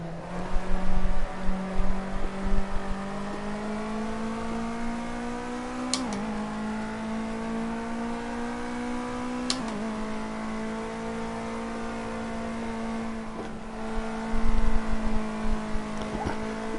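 A Ginetta Jr race car in a racing video game laps the Sonoma short circuit, its engine note droning and climbing through gears with sharp shift breaks, and rough rumbling bursts over the curbs near the start and end.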